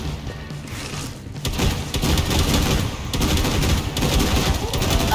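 Dense bursts of automatic gunfire from Killing Floor 2, played on Hard difficulty, crackle loudly and continuously for several seconds, with rapid shots blending into a steady barrage and no talking.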